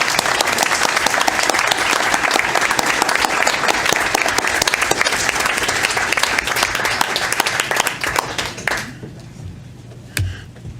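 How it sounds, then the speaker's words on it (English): An audience at a board of education meeting in Enfield, Connecticut, applauds. The clapping is loud and sustained for about nine seconds, then fades to a few scattered claps. "And one more round of applause for him."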